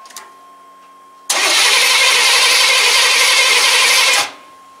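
A 1991 GMC Jimmy engine is cranked, a loud, sudden burst of churning starter and engine noise that holds for about three seconds before cutting off, with faint background sound on either side.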